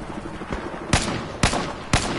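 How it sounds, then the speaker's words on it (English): Gunfire in Battlefield 4: three loud, sharp shots at steady intervals of about half a second, each with a short crackling tail, over a dense, noisy battle background. No talking. "I was shooting the shit out of them."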